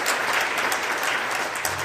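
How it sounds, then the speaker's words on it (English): Audience applause at a middle school band Christmas concert, a dense, steady wash of clapping from many hands filling the room, fairly loud and continuous. "Yes, big round of applause."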